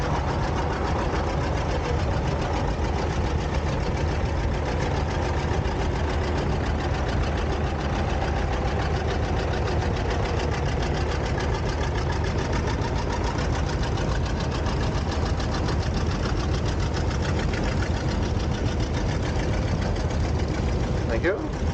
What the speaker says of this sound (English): driving a 1950 John Deere Model R. This is a 2-cylinder diesel